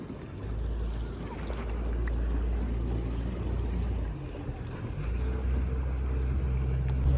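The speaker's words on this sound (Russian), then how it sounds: "И вот мы уже сидим в катере и отплываем к своему пляжу" Motorboat cruising across Lake Alakol, a steady low engine drone with wind and water rush continuing throughout, fairly close and without talk.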